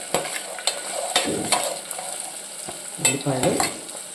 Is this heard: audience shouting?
no